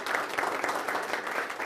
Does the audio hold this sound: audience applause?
yes